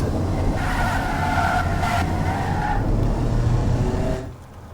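Quiet car engine in the Automation video game, a steady low drone with a mild rising tone that drops off abruptly near the end, with no voices.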